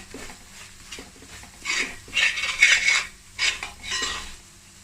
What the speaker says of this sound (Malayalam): അതിലേക്ക് നമുക്ക് ബിരിയാണി മസാലപ്പൊടി ചേർത്ത് കൊടുക്കുക. നന്നായിട്ട് ഇളക്കി ചേർക്കുക.